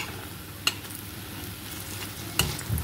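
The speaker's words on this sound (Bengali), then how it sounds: "সবগুলো বড়া এইভাবে দিয়ে আমি এক পিঠ বেশ ভালোভাবে লাল করে ভেজে নেব।" Pea lentil fritters fry in hot oil with a quiet, steady sizzle close by, broken by two brief sharp clicks.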